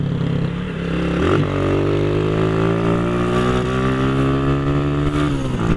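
A motorcycle engine, running somewhat roughly, revs up and holds a rising, droning pitch, loud and close with no talking.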